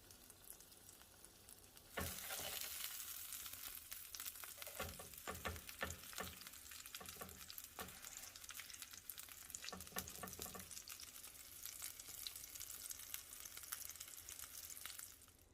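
Quesatacos, shrimp tacos with melted cheese, fry steadily in a hot pan until the cheese forms a crispy crust. The broad sizzle swells after a quiet start and carries on loud and close, with scraping stir sounds from a spatula, and nobody speaks.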